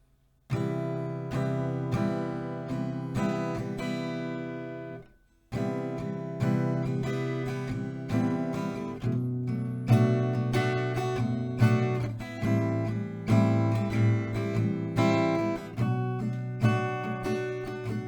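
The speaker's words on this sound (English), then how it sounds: "So the full strumming pattern will sound like this." Acoustic guitar strums the repeating down-down-down-down-up strumming pattern for a song, steady and clear, after a brief pause near the start.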